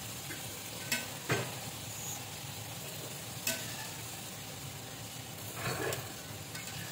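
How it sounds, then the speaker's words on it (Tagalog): Pasta going into a pan while cooking a simple spaghetti with parsley: a low steady sizzle broken by a few sharp scrapes and knocks of utensils against the pan, with a louder stirring rustle toward the end. "Ilagay na natin yung ating pasta."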